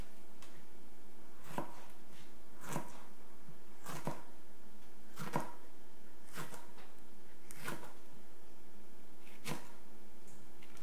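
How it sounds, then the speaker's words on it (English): A knife chops jalapeños on a cutting board in a kitchen, making eight sharp, evenly spaced thuds about one per second. The strikes are close and distinct against a low steady background hum, and no one speaks. "now I'll chop the jalapenos"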